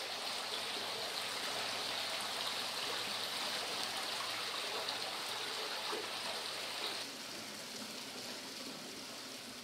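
Water streams steadily into an underground cave pond, a continuous rushing and trickling wash with no voices, dropping slightly in level partway through.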